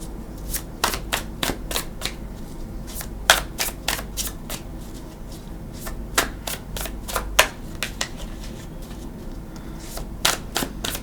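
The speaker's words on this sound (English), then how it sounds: "Let's shut up and shuffle." Tarot cards are shuffled close by in repeated crisp riffles and snaps, irregular bursts of sharp flicking with short pauses between them.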